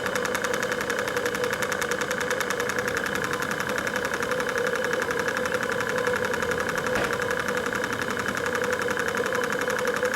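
An engine idles slowly at about 630 revs, giving a steady, even knocking chug with a continuous mechanical hum, close and unchanging, without voices.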